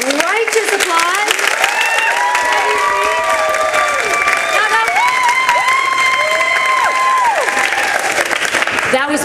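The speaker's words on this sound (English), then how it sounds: "Now righteous applause." Applause and cheering from an audience at a student summer showcase of fantasy and adventure scenes, loud and dense throughout, with scattered shouts and voices mixed into the clapping.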